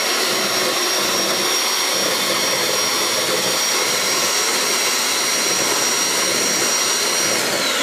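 Electric mixer beating a mixture until frothy, a loud, steady, unbroken motor whine with a high tone running throughout and no talking.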